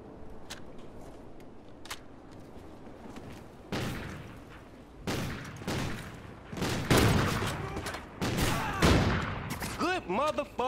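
Video game gunfire and grenade blasts during a search and destroy match, with sharp bursts and heavy booms building from sparse shots to dense, loud volleys over the last half, mixed with brief voices.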